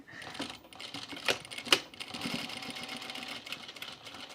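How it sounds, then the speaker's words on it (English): A sewing machine with a size 16 needle stitches in the ditch along the binding of a cropped jacket, running in a quiet, rapid whirring rhythm with a few sharper clicks, close up and without talk. "I'm going to stitch in the ditch. I'm using a size 16 needle,"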